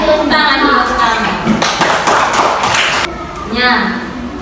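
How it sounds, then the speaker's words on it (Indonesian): A classroom of children applauds, a dense burst of hand clapping lasting about a second and a half, with a teacher's voice speaking before and after it. "Tepuk tangan dulu sekarang"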